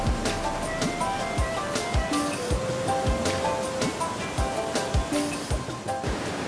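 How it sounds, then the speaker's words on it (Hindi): Water rushes fast and loud over Mirchaiya waterfall in Jharkhand, a steady roaring wash that fills the scene, with faint low thumps underneath. "अब हम मिर्चैया वाटरफॉल तक पहुंच चुके हैं।"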